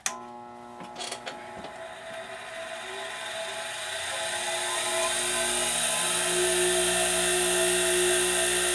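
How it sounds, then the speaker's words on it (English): A grinder wears down a cutter blade for an Argentine cutter, a steady high whine building and holding loud after a few light taps at the start, with no talk. "And it doesn't take much pressure to grind these down."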